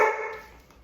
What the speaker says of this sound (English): What you barking?